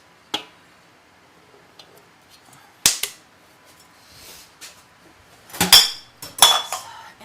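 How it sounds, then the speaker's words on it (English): Dry ingredients go into a bowl of thick cookie batter, heard as sparse sharp clacks and knocks of a utensil against the bowl, then a cluster of scraping, clattering handling sounds near the end, close with quiet gaps between. "now I'm going to add the dry ingredients."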